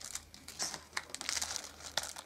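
A plastic bag from a BELA Scooby Doo building set crinkles and rustles continuously, close and fairly loud, with sharper crackling peaks throughout.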